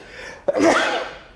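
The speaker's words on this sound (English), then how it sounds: "oh God, I gotta sneeze." One close sneeze, a quick sharp intake snapping into a loud burst that trails off within about a second, heard alone.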